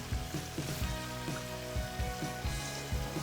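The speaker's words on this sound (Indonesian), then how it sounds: "Kita tambahkan kunyit bubuk 3 sendok kecil ya kunyit bubuknya, dan kita aduk-aduk lagi" Turmeric powder and spices frying in a pan while being stirred, a steady close sizzle with repeated scraping strokes of the spoon at a regular rhythm.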